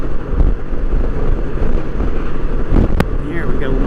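Strong wind buffets a rider on a Honda Goldwing trike, making a loud, constant low roar of wind noise over the rumble of the road.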